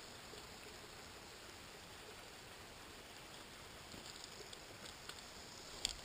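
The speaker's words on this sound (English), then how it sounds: "Little mini waterfall." Small waterfall flowing near an abandoned tunnel site, a faint, steady hiss of splashing water with a few light clicks near the end, no talking.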